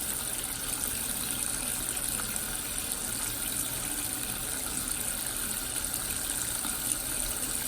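Water runs steadily from a tap as a makeup brush is rinsed under it, a constant close hiss and splash with no voices.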